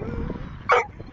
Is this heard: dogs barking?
yes